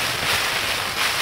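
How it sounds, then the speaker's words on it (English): Loud, roaring gusts of wind, about 30 miles per hour, buffeting the microphone on a backpacking trail, a constant rushing blast with no voices. "It is windy. Must be going about 30 miles per hour outside."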